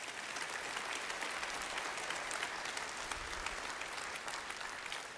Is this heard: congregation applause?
yes